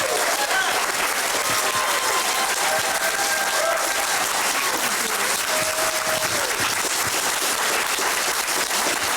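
Crowd at a public education victory party applauds and cheers loudly without a break, whoops and voices rising over dense clapping.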